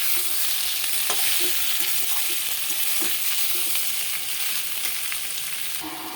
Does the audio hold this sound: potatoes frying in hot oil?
yes